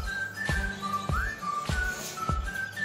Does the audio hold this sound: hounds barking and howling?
no